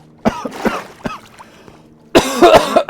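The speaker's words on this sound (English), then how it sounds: "Oh, why is it making me cough so bad?" A person playing Minecraft coughs several times up close, in harsh, raspy bursts. There is a brief pause before a longer, louder fit of coughing and throat clearing.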